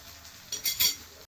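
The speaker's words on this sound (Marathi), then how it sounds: "थोडंसं तिखट टाकत आहे आणि थोडंसं परतून घेते याला" Spoon stirring and sautéing a peas and potato sandwich filling with chilli powder in a pan: a few close metallic clinks and scrapes over a brief soft sizzle, no voices.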